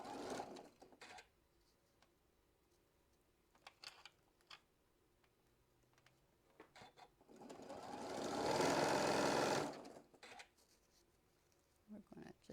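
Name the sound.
sewing machine sewing down quilt seams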